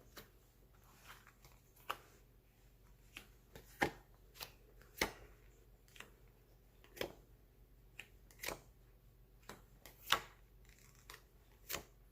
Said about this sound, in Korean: 초록색 분들 카드 펼쳐 보겠습니다